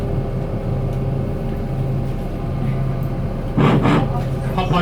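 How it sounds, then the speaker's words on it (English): Hop-on hop-off tour bus running on Rottnest Island, heard from aboard as a constant low engine hum with a tonal whine. A louder burst of noise and voice comes in near the end. "Hop on, hop off bus."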